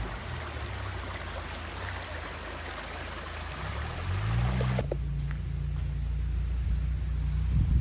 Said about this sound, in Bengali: এখানেও পানি পড়তেছে, এটাও ইউজেবল পানি, কল থেকে আর কি